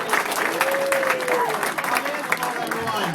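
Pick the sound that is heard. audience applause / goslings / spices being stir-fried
audience applause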